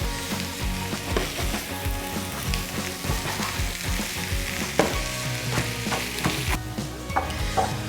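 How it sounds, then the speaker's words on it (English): Pork pieces fry in a pan with paprika and chilies, crisping as they cook. A steady, close sizzle and crackle runs throughout, with occasional stirring scrapes and no talking. "just cook it for a little bit so that everything coats nicely and kind of goes a little bit crispy"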